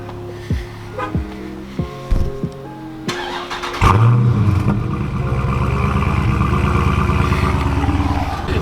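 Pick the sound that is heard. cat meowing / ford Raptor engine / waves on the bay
ford Raptor engine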